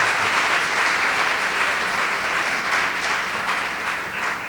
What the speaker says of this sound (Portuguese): por favor, uma salva de palmas para os convidados